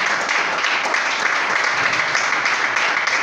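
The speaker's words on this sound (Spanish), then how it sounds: "De un fuerte aplauso al Señor" A church congregation applauds loudly and continuously during a sermon, dense clapping filling the room without a break.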